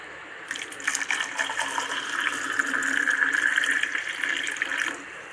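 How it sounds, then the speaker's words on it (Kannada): Hot water is poured into a cup of health powder drink, making a steady close trickling gush that rises slightly in pitch as it fills, lasting about four seconds before stopping. "ಆರೋಗ್ಯ ಹೆಲ್ತ್ ಪೌಡ್ರನ್ನ ವೆಯ್ಟ್ ಲಾಸ್ದು ತಗೋತಾ ಇದ್ದೀನಿ ಬಿಸಿನೀರು ಹಾಕ್ಕೊಳೋದಕ್ಕೆ"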